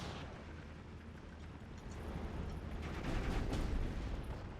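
Artillery fire and explosions in the video game Steel Division: Normandy 44, a rumbling wash of distant blasts that swells into heavier booms toward the end.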